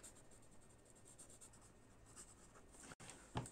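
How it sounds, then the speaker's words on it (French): Pen writing on paper laid over a printed image, a soft continuous scratching of strokes close by and faint, ending in a few firmer marks. "ça me faisait très envie de venir écrire là-dessus"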